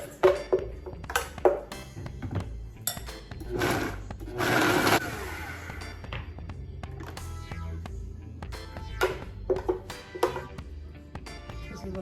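A kitchen blender or food processor pulses in short bursts while making high-protein stuffed peppers, with several brief whirring spurts and one longer burst near the middle, separated by clinks and quiet pauses.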